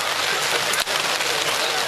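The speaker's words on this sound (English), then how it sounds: "it still hasn't stopped raining" Steady heavy rain pours down on the open field during a local rugby league match between Denman and Singleton, a dense constant hiss with no break and no voices over it.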